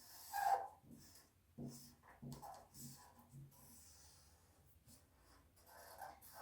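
A pen scratches and rubs across paper while tracing a sewing pattern piece for a full bust adjustment, in quiet, close strokes with brief pauses and faint breathing.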